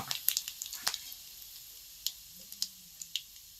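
Cumin seeds and curry leaves sizzling in hot oil, a soft hiss broken by sharp scattered pops and crackles, close and fairly quiet.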